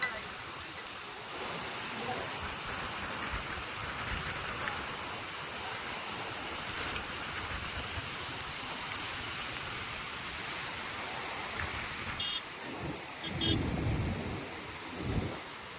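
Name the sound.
heavy rain with thunder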